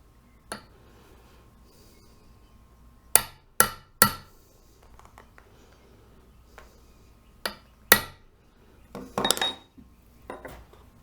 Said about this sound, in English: I like to start with a small punch just to get a really defined point